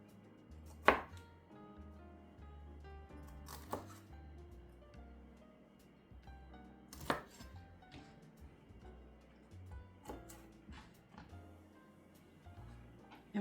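Knife chopping broccoli heads on a cutting board for a salad, a few scattered close chops and soft taps, quiet with no talking.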